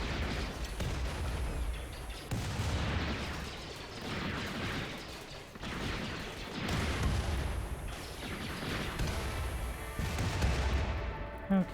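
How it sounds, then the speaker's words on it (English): Explosion and rapid gunfire from a battle against mechs in the colony game RimWorld, with dense, continuous bursts of shots and booms that stay loud throughout, surging in waves with no talking. "Okay, ooh, crazy explosion. I don't even know what exploded there."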